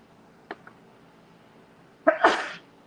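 A single close, sharp sneeze bursts out after a couple of faint preceding sounds in an otherwise quiet room.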